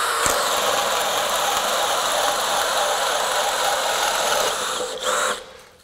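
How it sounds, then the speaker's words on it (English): A Kobalt 24-volt cordless drill on an 8 amp-hour battery drills with a loud, steady motor whine held for several seconds before it winds down and stops near the end. "let's start drilling"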